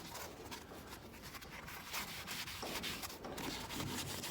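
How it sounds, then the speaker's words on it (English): Steady hand sanding of a 2021 Toyota Supra wheel with light pressure, a continuous scratchy rubbing with faint strokes, close up and fairly quiet, no voices. "And I'm not sanding like too hard."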